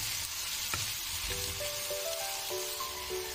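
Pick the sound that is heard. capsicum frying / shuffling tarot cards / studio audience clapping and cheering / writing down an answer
capsicum frying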